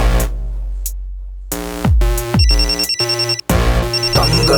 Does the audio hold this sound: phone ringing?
yes